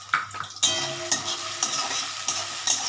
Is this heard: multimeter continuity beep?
no